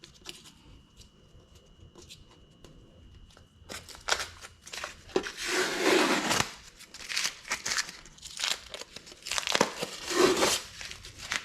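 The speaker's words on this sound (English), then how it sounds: "we're just gonna take this tape off" Tape being peeled and crinkled off the back of the DME control unit from a 2021 BMW X7, a quiet hum at first, then close, bursty rips and crackles of adhesive tape pulling free.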